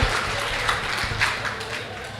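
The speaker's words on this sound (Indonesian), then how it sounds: "Tepuk tangan." Audience applause at an Indonesia Pickleball Federation provincial outreach event, a steady spread of clapping from a crowd indoors, moderately loud and continuous throughout.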